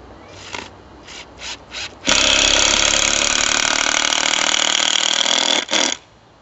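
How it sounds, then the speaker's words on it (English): Power drill driving exterior screws into the corner posts of a wooden cold frame for a raised garden bed: several short trigger bursts, then one long steady whirring run of about three and a half seconds, close and loud, with no talking. "we're gonna start by screwing in the posts to the corners"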